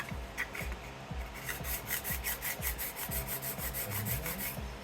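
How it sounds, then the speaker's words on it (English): A steel card scraper edge is rubbed with quick repeated strokes to take off the old burr, giving close, faint, rhythmic scraping swishes about three per second that run on steadily, with no talking. "I'm gonna take the old burr off, make sure that that's completely gone."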